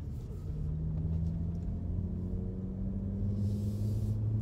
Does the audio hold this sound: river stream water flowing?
no